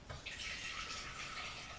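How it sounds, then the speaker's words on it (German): Kombucha liquid being poured into a pot, a steady splashing stream that runs softly and continuously for under two seconds without any talking. "Jetzt gieße ich meine Kombucha-Flüssigkeit hier in den Topf."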